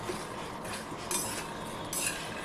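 Ghee-roasted makhana stirred in a pan, with a soft continuous scraping and light clinks of a spoon against metal, a couple of brighter rasping sweeps standing out over the steady low rustle.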